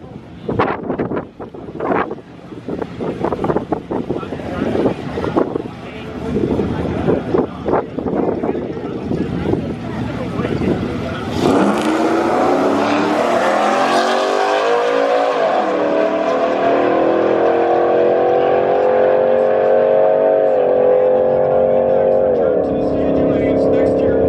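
Cammed Ram truck making a drag strip run, its engine roaring loud and steady as it accelerates hard, with wind noise buffeting the microphone and earlier rumbling and clatter before the launch.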